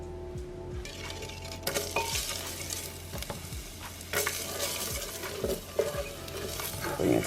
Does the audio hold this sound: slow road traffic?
no